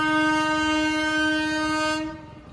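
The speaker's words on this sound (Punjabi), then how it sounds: "ਦੇਖੋ ਟ੍ਰੇਨ ਆ ਚੁੱਕੀ ਆ" A train arriving at a station sounds a loud, sustained horn blast close by that cuts off abruptly near the end, leaving a low rumble.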